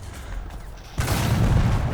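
A tank cannon fires in War Thunder, a loud sudden boom that erupts out of low engine rumble and rolls on with a dense, sustained roar for the rest of the moment.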